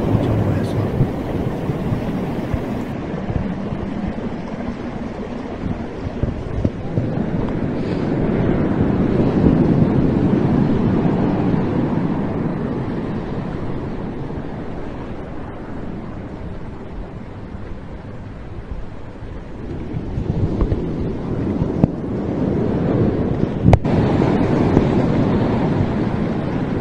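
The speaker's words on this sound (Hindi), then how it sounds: "इधर से लहरें बड़ा बड़ा रहा है।" Large sea waves roar and surge against the Karachi shore during Cyclone Kyarr, with heavy wind buffeting the microphone in a constant rumbling wash while someone talks over it.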